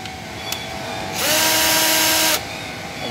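A Rockwell power drill whirs into motion for just over a second, a loud, steady high-pitched motor whine that starts and stops sharply, with no one talking.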